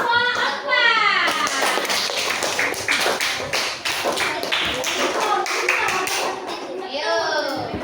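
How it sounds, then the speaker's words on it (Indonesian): Schoolchildren in a primary class clap for group 3, a dense burst of many hands clapping steadily, with children's voices rising at the start and end. "tepuk tangan untuk kelompok 3"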